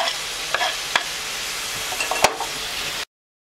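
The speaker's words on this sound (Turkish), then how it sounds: "Doğradığım maydanozlarımı da ekliyorum." Chopped parsley stirred into minced meat frying in a pan for a four-person eggplant dish, giving a steady close sizzle with several scraping stirs of the spoon, and no talking.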